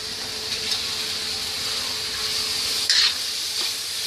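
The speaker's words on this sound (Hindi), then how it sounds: "मसाला हमारा पक चुका है अब इसमें हम छोले डालेंगे" Chickpeas are stirred into frying masala in a pan, giving a loud continuous sizzle close up with scraping stir strokes and a brief louder burst near the end; no speech.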